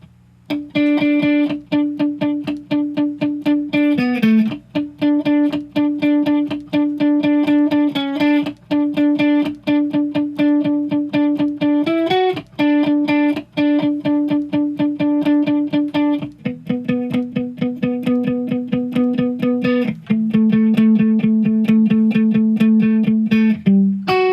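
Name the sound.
alternate picked guitar melody, played slowly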